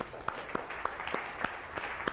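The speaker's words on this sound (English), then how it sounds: "Dan deserves a big round of applause" A few people in a lecture hall clap in a sparse, steady rhythm, each clap distinct and fairly faint, roughly three or four per second, with no crowd roar around them.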